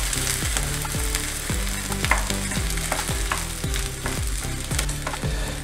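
Green peas masala sizzles in a hot pan at a beach street stall while a spatula scrapes and stirs it in a steady rhythm of repeated strokes, close and loud, with no talking.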